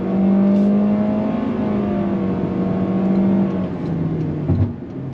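A 2025 Toyota Corolla Hatchback XSE engine drones steadily under acceleration, its tone stepping slightly with simulated gear shifts, then dropping off near the end.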